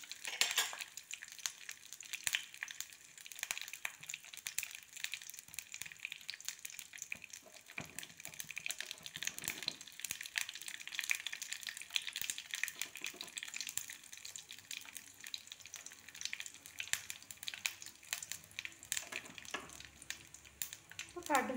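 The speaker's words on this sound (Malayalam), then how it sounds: "കടുക് പൊട്ടി വന്നിട്ടുണ്ട്" Mustard seeds crackle and pop in hot coconut oil while a shrimp and gourd curry is prepared, a faint, dense, continuous sputter of small snaps with light frying hiss beneath.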